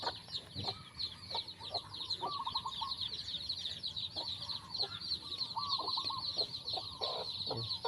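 Chickens clucking repeatedly at close range, with a hen and her chicks giving steady, overlapping calls in a loose rhythm over a constant background hum.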